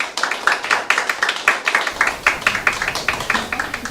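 Audience clapping at a Korean panel forum on mental-disability social integration, a small group giving sparse, rhythmic claps, fairly close and steady, with no talk over it.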